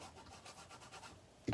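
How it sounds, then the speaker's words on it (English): A folding bone or similar tool rubs over a paper craft treat box, pressing the folds flat in a steady, quiet scraping stroke, followed by a louder knock at the end. "and then I'm going to burnish that down."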